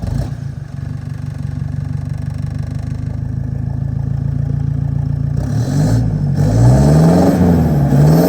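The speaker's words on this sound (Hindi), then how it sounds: "इसमें एग्जॉस्ट करा था, अभी सुनवाते हैं आपको फॉर्च्यूनर" A Toyota Fortuner SUV fitted with an aftermarket Stage 2 exhaust idles with a deep, throbbing burble, then revs up several times near the end, rising and falling in loud, close blips.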